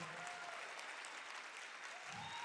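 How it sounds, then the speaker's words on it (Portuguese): Faint, distant applause from a seminar audience after a closing panel debate, a soft continuous patter with a brief low murmur near the end. "Palmas para vocês, que isso."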